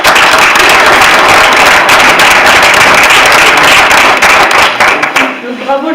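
Volunteers at a charity cancer fundraising event in Malestroit applaud themselves, a dense, loud wash of clapping that holds steady before thinning out near the end, with voices mixed into the crowd.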